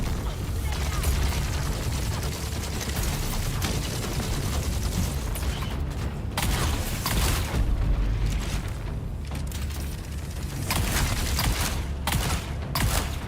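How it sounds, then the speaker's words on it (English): Video game firefight with a thrown grenade, sustained gunfire and booming blasts running continuously and loud throughout, with a player's voice occasionally over the din. "Oh, he threw a grenade."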